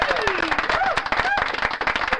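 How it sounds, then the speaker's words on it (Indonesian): Clapping for a presentation group in a teacher-training online class session, a quick run of distinct claps from a few people, close and crisp, mixed with overlapping voices and whistle-like tones. "tepuk tangan buat kelompoknya Mbak Arnita"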